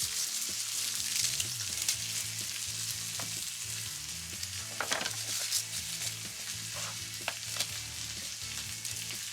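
Garlic fries in a pan as part of a beef dish in a firehouse kitchen, a continuous close sizzle with occasional stirring clatter and scrapes, no voices.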